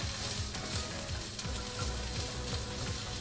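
Bell peppers frying in a pan, a faint soft sizzle with quiet occasional stirring.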